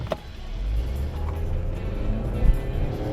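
A 2016 Mazda CX-5 with a 2.5-liter four-cylinder engine accelerates in sport mode, a steady low throaty rumble from inside the cabin with a brief swell near the end and no talk.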